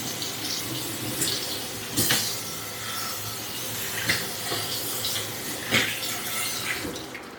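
Tap water runs steadily over a non-stick, enamel-coated stainless steel 10-inch fry pan in a sink, a close, continuous splashing wash broken by occasional louder splatters as the pan is moved under the stream.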